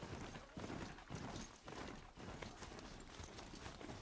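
Steady clip-clop of horse hooves in the game Horizon Zero Dawn, a continuous rhythmic trotting close by, moderately loud against a dense background.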